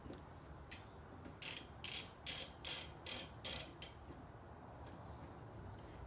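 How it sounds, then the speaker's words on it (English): A ratchet fitted with an Allen key bit drives bolts while installing a Mace cold air intake on a Holden Commodore, giving a quick series of faint clicking ratchet strokes against a steady background hiss. "So ratchet with the Allen key bit, just put it down, line the holes up."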